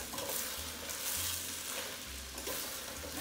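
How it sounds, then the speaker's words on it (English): Peas being stirred into pulao rice in a hot pan give off a quiet, steady sizzle, with soft scraping stirs and low rhythmic pushes through the grains. "Give it another stir."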